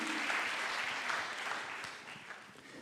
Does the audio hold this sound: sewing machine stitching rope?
no